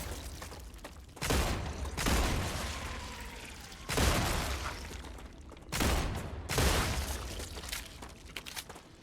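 Bursts of gunfire in the game StarRupture, four loud rapid volleys separated by short gaps, each a dense rattle of shots with a booming low end, close and dominant.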